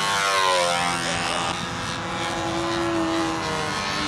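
Windy U 795 Master model aircraft flying overhead, its engine giving a continuous buzzing drone with a high harmonic whine that holds steady and loud throughout.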